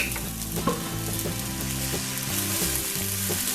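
Special fried rice sizzling loudly in a pan as a teaspoon of vinegar is mixed in, a continuous close frying hiss with rhythmic scraping and tossing of the spatula throughout, no voices.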